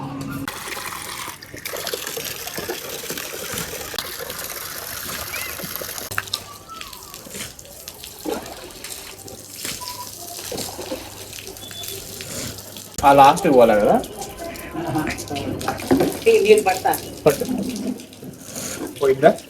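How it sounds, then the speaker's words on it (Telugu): Water scooped with a jug from a bucket and poured over rooftop solar panels during cleaning, splashing and running steadily with louder bursts near the end, while voices talk over it. "మనమే బకెట్లో పట్టుకొని జగ్గుతో పైకి పోసుకోవాలి వాటర్"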